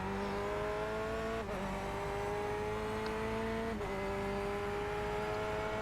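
A Corvette C8R GTE race car in a racing video game on the Daytona road course revs with a steady engine drone, pitch climbing between two quick gear shifts, heard alone.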